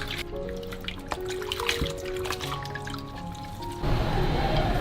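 Water runs and trickles steadily while soaked dried daylily flowers are rinsed, with the flow growing louder and fuller near the end.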